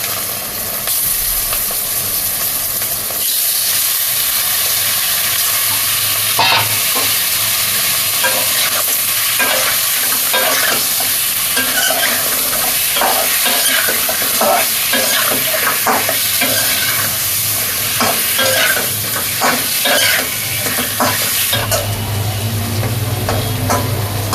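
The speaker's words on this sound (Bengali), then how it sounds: "এর ভিতরে আমি দিয়ে দিব দশ টুকরো কাতলা মাছ" Ten large katla fish pieces fry in oil spiced with dried chilli powder inside a pan, making a loud, continuous close sizzle with stirring scrapes and bursts of spatter and no talking.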